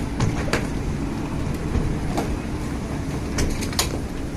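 A tram in Luxembourg rumbles steadily as it runs, with a continuous low rolling drone and a few faint rail clicks and squeaks over about four seconds, no talking.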